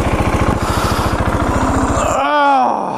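A Husqvarna 701 supermoto engine turning over after a wheelie crash, a steady fast chugging pulse for about two seconds, then a rising and falling groaning tone, close and loud.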